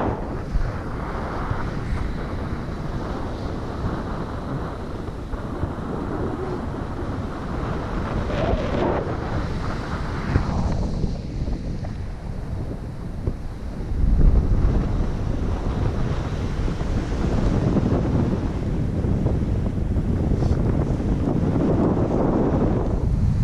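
Strong gusting wind roars across the microphone outdoors in a blustery setting, a continuous loud rumbling rush that swells and thumps in bursts throughout, with no voices.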